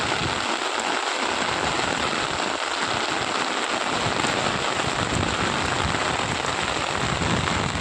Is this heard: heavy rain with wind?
yes